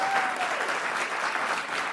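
An audience applauds steadily for about two seconds, a dense, even clapping heard at moderate distance.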